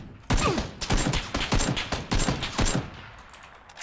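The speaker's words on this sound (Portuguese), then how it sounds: "Para de atirar em mim." Rapid bursts of gunfire in PUBG Battlegrounds, a dense run of close, loud shots in uneven clusters over a few seconds before tailing off, with no talk.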